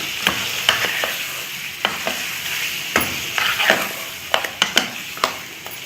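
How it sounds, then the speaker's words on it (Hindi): Khoya being fried and stirred with spices in a pan, a low steady sizzle broken by sharp scraping strokes of the spoon at an uneven rhythm, close up and with no talking. "अब हमने इन तमाम मसालों के साथ इसको ज़रा सा भूनना है थोड़ी देर।"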